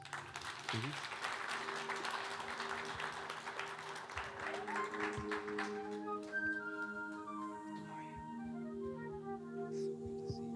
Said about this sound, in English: You all please join me in giving a round of applause to Beckee Garris